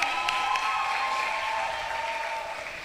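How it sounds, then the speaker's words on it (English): An audience at a secondary school graduation ceremony applauds honors graduates, a steady round of moderate clapping with a faint hum or tone running through it, slowly tapering near the end. "Let's give them a round of applause."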